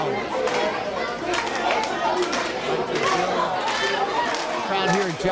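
Crowd at a live MCW Pro Wrestling event in Joppa, a steady, dense murmur of chatter and shouts filling the hall throughout, with a commentator's voice running loudly over it.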